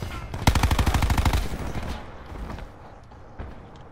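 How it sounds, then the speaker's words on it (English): Gunfire rattles in Black Ops 4, a loud rapid burst of shots lasting about a second, then fading into a quieter noisy tail with a faint distant pop afterward. "I just got sniped."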